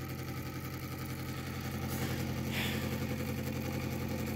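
A large homemade pulse motor runs steadily with a low, even mechanical hum and rhythmic chugging, close and continuous throughout, with a brief brighter whir partway through.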